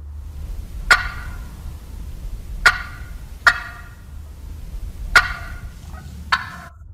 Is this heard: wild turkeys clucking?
yes